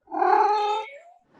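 A kitten's meow in an old radio comedy, one loud drawn-out cry close by and alone, fading at the end.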